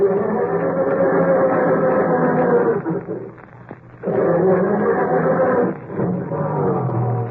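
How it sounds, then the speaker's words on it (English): A car engine cranks slowly and heavily on a frosty morning, grinding in long labored bursts with brief pauses between attempts, loud and close. "how does your motor sound when you try to start it on these frosty mornings?"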